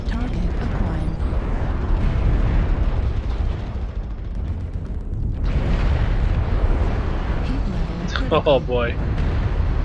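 A mech blows up in MechWarrior Online: a deep, loud rumbling blast swells suddenly midway through continuous battle noise, and a man exclaims briefly.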